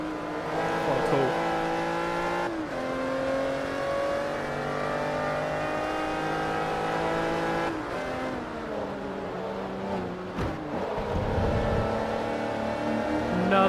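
Honda NSX engine racing in Forza Motorsport 3, a steady loud revving drone with gear-change dips and pitch swings throughout, a short tire scrub near the end.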